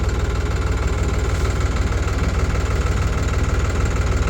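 A tractor engine idles close by while stopped on a farm track, a loud, steady low chugging pulse with regular rapid knocks and no pauses.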